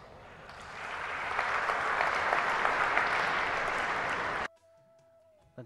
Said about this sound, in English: drew huge applause on her opening remarks in her acceptance speech